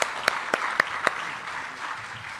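An audience at the Africa 2023 Manufacturing Expo at KICC, Nairobi, claps for President Ruto: a few sharp, loud claps at the start, followed by a steady wash of applause across the hall.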